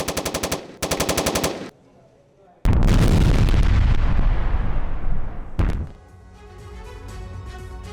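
Ukrainian forces shelling a surrounded Russian unit near Kursk: two rapid bursts of automatic gunfire, then a heavy, loud blast that rumbles and slowly decays, a second sharp crack of a blast, and a lingering low roar.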